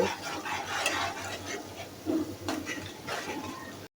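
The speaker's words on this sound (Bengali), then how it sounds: "সবগুলি মশলাকে ভালোভাবে নেড়েচেড়ে মিশিয়ে কিছুক্ষণ কষিয়ে নিব" Spice paste of ginger, cumin and salt being stirred and fried in a pan, with steady low sizzling, scraping spatula strokes and occasional clinks of utensil against metal, close and moderately quiet.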